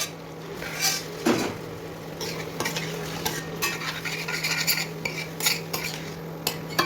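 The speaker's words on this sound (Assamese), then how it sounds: "গোটা হৈ আছে, বেছি গলি যোৱা নাই, গতিকে অলপ সময় ভাজি ল'ম।" Peas and kidney beans fry in a pan while a utensil stirs them, with a steady soft sizzle under repeated scraping and clinking of the spoon against the metal pan, close and moderately loud, with no talking.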